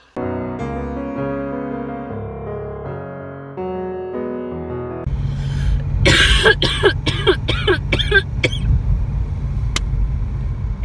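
After a stretch of tonal music, a person coughs several times in a quick series over the steady rumble of a car engine.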